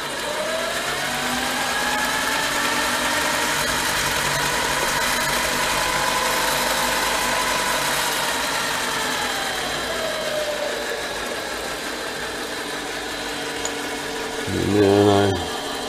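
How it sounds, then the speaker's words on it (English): Mini lathe running while a reamer feeds into a small part, a steady motor hum with drifting whine tones, ending in a brief louder rattling burst near the close. "We'll bring the cutting tool all the way up and then bring the reamer"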